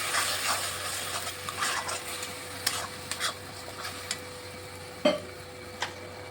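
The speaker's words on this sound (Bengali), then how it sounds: "এবার ভালোভাবে মশলাটাকে কষিয়ে নিচ্ছি" Spice masala with turmeric and chilli powder fries in a pan for a raw jackfruit curry. A continuous low sizzle runs under intermittent scraping and ticking stirring strokes, close and without talk.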